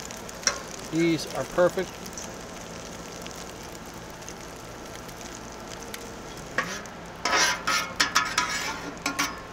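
French toast sizzles on a 360 XL griddle, a steady close frying hiss with scraping and clinks of a spatula, and a person speaks briefly over it.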